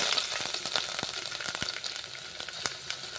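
Mustard seeds and garlic frying in hot oil for a North Karnataka sambar tempering, giving a steady close sizzle with scattered sharp pops and crackles throughout, no voices.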